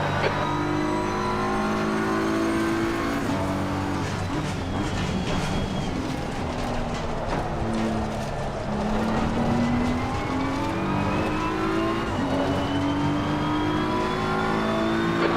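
Multiclass race cars roar around the track, one engine close and loud, rising and falling in pitch through upshifts and braking, with other cars faintly audible beneath.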